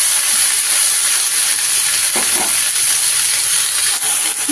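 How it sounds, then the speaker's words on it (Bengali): Lao shak greens being stirred and lightly fried in a pan, a loud steady hiss of oil with a few soft scraping stirs, close and continuous without speech. "বন্ধুরা, একটু নেড়ে নিয়েছি, একটু হালকা ভেজে নিয়েছি।"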